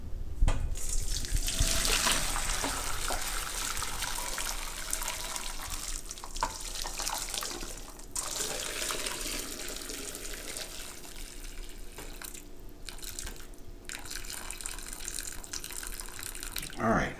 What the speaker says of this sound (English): we're going to drain these potatoes